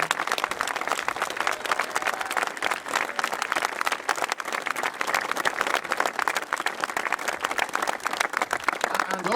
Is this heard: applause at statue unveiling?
yes